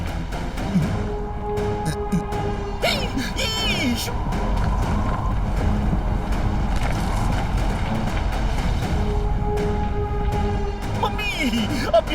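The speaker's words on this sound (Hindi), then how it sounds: "मम्मी, अब ये सुनामी कैसे आ गई?" Cartoon tsunami water surges in a continuous roaring, wind-like rush that stays loud and close for the whole stretch, with chaotic splashy swells and a few faint tonal sounds mixed in.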